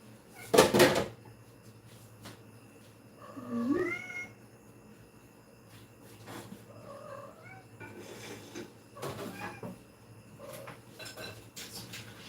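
Several cats meow in a kitchen, giving a few distinct rising and wavering cries spread across the clip, mixed with sharp clatters of dishes and cutlery nearby.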